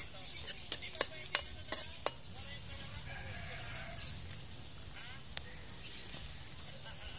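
Ingredients for ginataang sikad are sautéed in a pan, with sharp spoon clanks and stirring scrapes early on, then a softer sizzle and occasional taps under quiet ambient noise.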